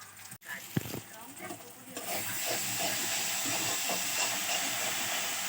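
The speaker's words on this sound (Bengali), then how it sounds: "আর এই যে এখানে আরও আলু ভাজা হচ্ছে" Potatoes frying in a pan in a home kitchen, with a steady oily sizzle that swells after a couple of seconds of light clatter and faint background talk.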